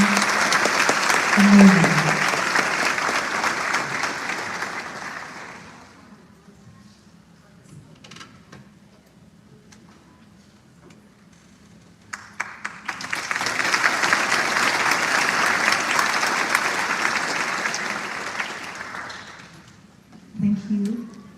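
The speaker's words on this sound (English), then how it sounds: "Now please a warm applause to the students from the Virginia" Audience at a scholarship ceremony for Kimmy Duong Foundation students in Annandale, Virginia applauds in two long, loud bursts of dense clapping, separated by a quieter stretch of murmuring and talk, with a brief spoken exclamation near the start.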